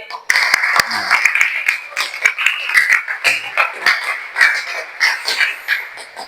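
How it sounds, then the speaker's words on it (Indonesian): A classroom of students in an Islamic religious education lesson applauds a student named Fadil; many hands clap in a fast, continuous patter, fairly close and loud, lasting several seconds. "kasih tepuk tangan dulu buat Fadil"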